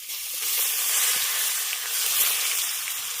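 Ginger and green chilli paste, turmeric, chilli powder and chopped tomato frying in a pan for a vegetarian banana flower dish, giving a steady, close sizzle and hiss without talk.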